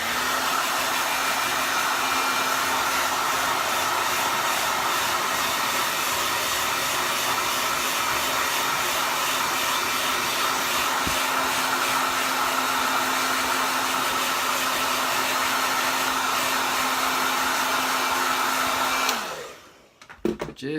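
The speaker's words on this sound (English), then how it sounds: "then want to come back in with your blow dryer. I go with medium heat" A hair dryer roars steadily on medium heat and a high fan setting for about nineteen seconds, then switches off abruptly, leaving near silence.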